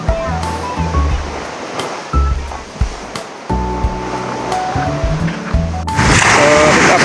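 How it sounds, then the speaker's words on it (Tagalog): Ocean surf at high tide on a Philippine shore during a fishing outing, with waves washing in continuously and loud broadband wash surging near the end, a voice briefly heard over it. "sobrang high tide ngayong hapon"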